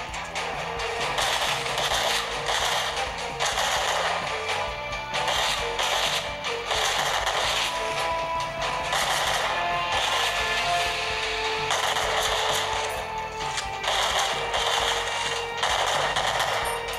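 Rapid automatic gunfire rattles in repeated bursts in the mobile video game Frontline Commando 2 played on a Sony Xperia Z3, fairly quiet and continuous.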